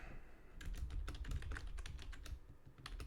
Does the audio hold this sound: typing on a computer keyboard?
yes